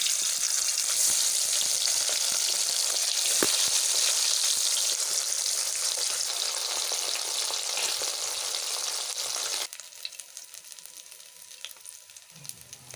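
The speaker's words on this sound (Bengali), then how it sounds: "এই দেখুন মাছগুলো উল্টে পাল্টে ভেজে নিচ্ছি।" Bhola fish pieces sizzle loudly and steadily in hot oil as they are turned, a dense bright crackle that drops to a quieter, sparser spatter near the end, with no voices.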